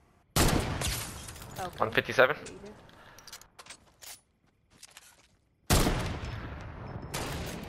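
Gunfire in a video game sounds as two loud, dense bursts of rapid shots, one at the start and one near the end, with players talking over the game audio in between.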